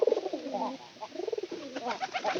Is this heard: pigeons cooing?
yes